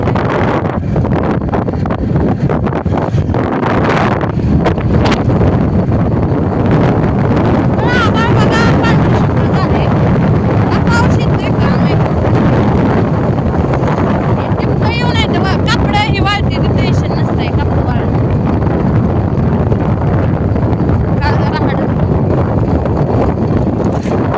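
Strong wind gusts across the microphone outdoors in a rural field, a loud continuous roar and buffeting throughout, with people talking faintly underneath.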